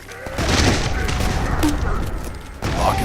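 A grenade goes off in a boomer-shooter video game, a loud booming blast with a rumbling tail amid ongoing gunfire, followed by a second burst near the end.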